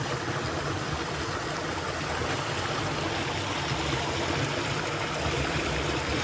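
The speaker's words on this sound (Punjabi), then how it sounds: "ਇਹ ਜੁਗਾੜਮੈਂਟ ਕਰਕੇ ਸਬਜ਼ੀ ਨੂੰ ਪਾਣੀ ਲਾ ਰਹੇ ਹਾਂ" Water from a makeshift irrigation setup pours steadily into a vegetable garden, a continuous broad rushing and trickling flow that stays loud and even throughout with no voices.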